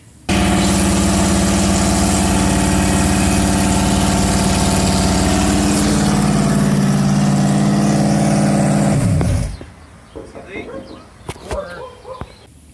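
Ford Maverick with a 351 Windsor V8 idles loudly and steadily just after startup, a deep, even rumble that runs for about nine seconds before cutting off, leaving faint clanks and handling noises.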